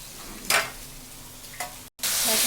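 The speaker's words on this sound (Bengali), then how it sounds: "এখন কষানো হচ্ছে আবার" Cumin and coriander powders sauté in a pan for a khesari dal dish, a soft continuous sizzle broken by a few quick scraping strokes of a spatula, with a brief cut before the frying grows louder.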